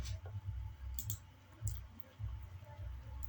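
Mouse clicks in Windows 11 Disk Management: several faint, sharp clicks spaced irregularly over a quiet background.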